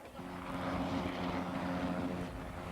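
National Guard helicopters circle overhead during a manhunt, a steady droning engine and rotor hum with a sustained tonal whine, moderately loud and continuous, no talking.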